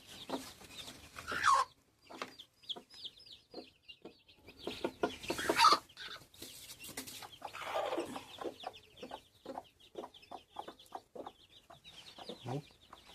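Chickens cluck steadily nearby in short, repeated bursts, with occasional louder squawks breaking through the chatter.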